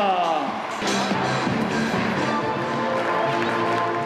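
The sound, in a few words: crowd applauding French delegation at tennis tournament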